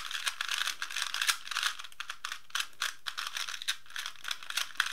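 A speed cube being turned quickly by hand gives a rapid, uneven run of loud, sharp, clacky clicks, heard up close with no voices.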